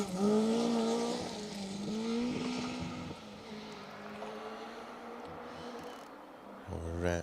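A rally car on a gravel forest stage of the Plains Rally in the Welsh Rally Championship, its engine revving loud and near, then fading into the distance, before a voice speaks at the end.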